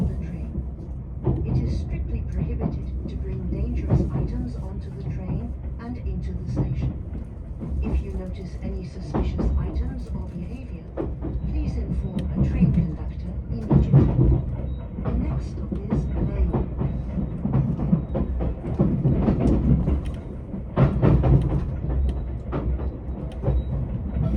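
A train rumbles steadily along the rails with a low drone and rhythmic clacking over joints, continuous and close, with a voice talking over it.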